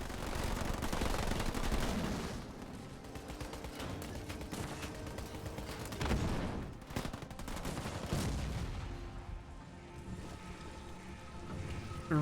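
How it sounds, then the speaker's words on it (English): A napalm air strike rains down on a base's turret, generators and buildings in the Halo Wars 2 strategy game, a dense crackling, rattling barrage of fiery impacts that stays loud throughout with a heavy low rumble. "He's throwing down some napalm from the skies, hitting the turret, the generators, and the heavy supply pad, and the main base building as well"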